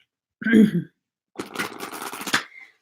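Tarot cards being shuffled by hand in a riffle of rapid papery flutters lasting about a second, preceded by a brief muffled thump, close and fairly loud.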